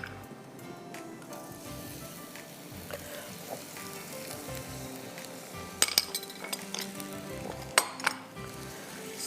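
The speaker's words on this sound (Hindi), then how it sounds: "प्याज को पहले ब्राउन करिए।" Onions frying in a pan, with a soft continuous sizzle and occasional clinks and scrapes of a utensil against the pan, two sharper clatters near the end.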